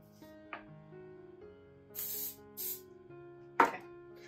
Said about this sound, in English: So if it sticks at all like that, you can just spray the top of it.